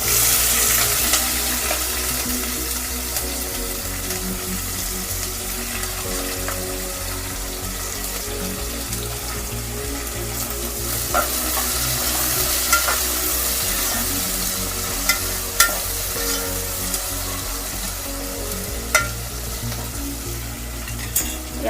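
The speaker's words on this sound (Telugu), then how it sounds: "ఆనియన్ బ్రౌన్ కలర్ వచ్చే వరకు ఫ్రై చేసుకుంటాం" Onions fry with whole spices (cloves, cinnamon) in oil for pulao, a loud continuous crackling sizzle with occasional spoon clinks and stirring scrapes, no voices.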